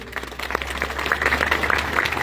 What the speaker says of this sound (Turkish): Ben sizlerden onun için bir alkış daha rica ediyorum.